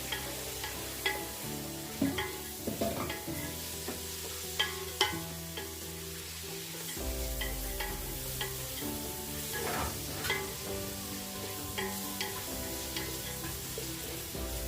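Four sliced onions with a pinch of rock salt sauté in a pan for chicken kurma, giving a steady sizzle with repeated scraping stir strokes throughout, close and fairly loud, with no talking.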